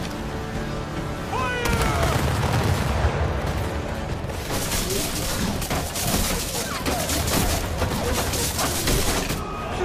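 A volley of rifle and cannon fire erupts in a war movie battle scene, with sharp blasts followed by rolling booms and crackling echoes, loud and close, while shouted voices break through in places.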